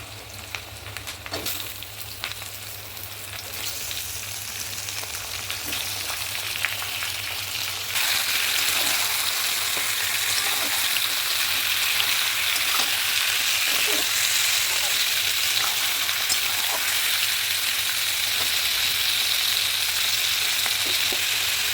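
Chicken pieces and softened onions sizzle steadily in a pan, a dense continuous frying hiss that grows louder and brighter partway through as the meat goes in, with faint clatter and no talk.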